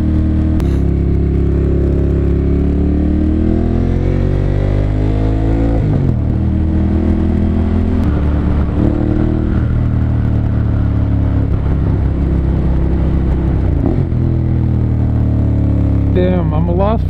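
A 2014 Ducati Monster 1200S engine revs loudly and steadily, rising and falling in pitch through several throttle sweeps, with wind rush over it.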